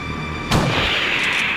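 A single loud shotgun blast in the Resident Evil video game, a sharp boom followed by a ringing decay over steady background game noise.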